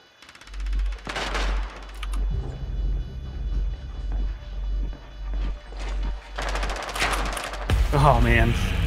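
Automatic gunfire in the Rainbow Six Siege Skyscraper map, with loud rapid bursts at the start, a sustained low rumble with intermittent shots, and another heavy volley of shots near the end.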